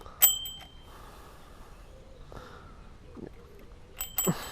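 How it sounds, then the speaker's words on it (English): A bell on an Orbea mountain bike that doesn't seem to work well gives a sharp single ding, then after a quiet pause a couple more quick dings close by. "It has a bell, which doesn't seem to"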